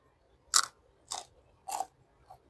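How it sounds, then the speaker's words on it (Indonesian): Crispy cireng made from white tofu gets bitten and chewed at close range, giving four sharp crunches in a steady rhythm, the last one fainter, over a quiet background. "Renyah cireng tahunya."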